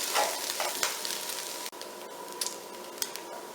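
Meat coated in spices sizzles and fries in a pot for chili, a steady close crackling hiss with occasional stirring scrapes and small pops, with no talking.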